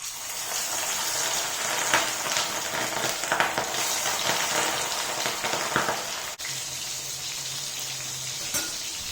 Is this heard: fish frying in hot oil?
yes